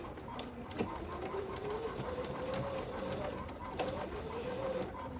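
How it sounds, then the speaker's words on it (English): A sewing machine edge-stitching fabric for a bean bag, running in a steady rapid whirring hum with faint clicks, quiet and close, with no voices. "Okay, let's go back to the sewing machine. Edge stitch along the final side"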